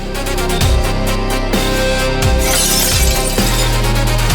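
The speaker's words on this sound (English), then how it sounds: "Pieces of glass are flying everywhere." Glass shattering in an audio drama, a loud, dense crash and tinkle of scattered fragments that spreads over several seconds, layered with rumbling effects and heavy background sound, no voices.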